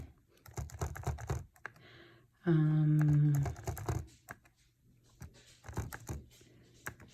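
Calculator keys are pressed in quick, irregular clusters of sharp clicks while someone multiplies fractions, with a short steady tonal hum partway through and quiet gaps between bursts.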